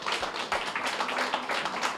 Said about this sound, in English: Huge round of applause for everybody who came all the way out to New York City.